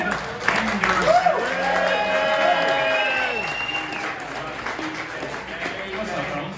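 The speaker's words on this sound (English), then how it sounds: "Can I get a witness and a raucous round of applause, ladies and gentlemen" A live crowd at a football radio show event in Lakeville, Minnesota bursts into loud applause with whoops and shouting voices, peaking early and then slowly tapering off.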